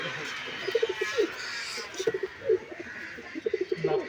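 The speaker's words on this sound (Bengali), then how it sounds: "এই যে পায়রাটা নর পায়রা" Soft, low coos from a male Giribaz pigeon repeat in short bursts every second or so, close by, with faint background hiss and no clear talking.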